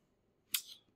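One sharp mouse click on a submit button, short and crisp against near silence.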